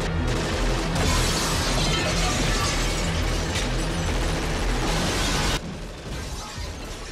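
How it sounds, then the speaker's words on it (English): Gunfire shatters glass in the movie Die Hard: a loud, sustained crashing roar of breaking glass and shots fills several seconds, then drops suddenly to a lower, rumbling tail, with no voices. "Shoot the glass."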